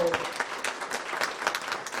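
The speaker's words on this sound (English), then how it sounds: "Let's give them another round of applause." Applause from the audience at a women's conference, a steady, fairly close patter of many hands clapping at once, continuing without a break for a couple of seconds.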